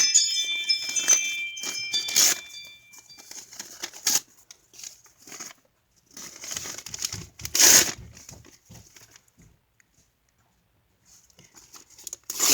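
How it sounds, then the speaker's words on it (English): Vintage wrapping paper is ripped into strips in short, crisp tearing and crinkling bursts, close and fairly loud, with quiet pauses between rips and no talking. "I have some wrapping paper, vintage wrapping paper, and there's some scraps in there, so I'll just rip that piece off"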